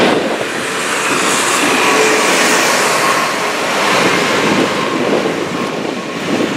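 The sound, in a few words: freight train crossing a viaduct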